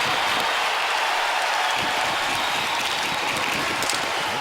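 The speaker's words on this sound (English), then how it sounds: "Brought the crowd to life here." A hockey arena crowd cheers and applauds during an NHL game between the Anaheim Ducks and Columbus Blue Jackets, a loud, sustained roar with dense clapping and no break.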